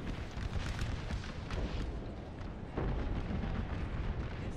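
Continuous rumbling cannon fire from massed artillery in a Napoleon Total War Gettysburg mod battle, booms overlapping into a dense, loud roar with a heavier burst near the end.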